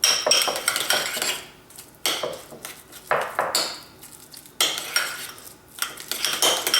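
Utensil scraping and clinking against a bowl or pan while salted butter is mixed into a dish for a smoked beef brisket and vegetables meal, in several bursts of stirring separated by brief pauses, close and fairly loud with no talking.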